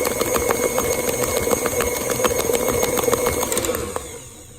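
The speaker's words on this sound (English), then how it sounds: "You see how wonderful it is to have a KitchenAid? There's no way I could beat that bad." A KitchenAid stand mixer beats caramel cake batter with a steady, close, whirring motor hum and rapid clattering ticks that stop abruptly near the end.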